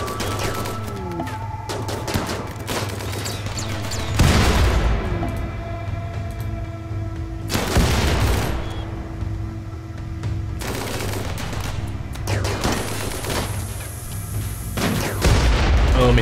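Gunfire and sniper shots in the video game RimWorld, with sustained bursts of weapon fire and several louder booming shots over a steady game soundscape.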